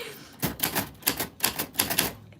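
Light, uneven taps on typewriter keys, pressed too softly to strike the paper, giving about a half-dozen soft clustered clacks close to the listener.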